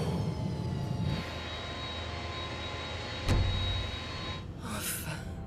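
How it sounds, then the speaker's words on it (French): An airliner landing, heard from inside the cabin as a steady loud engine roar with a sharp thump partway through and shifting noise toward the end, without talk. "Ils sont en train d'atterrir."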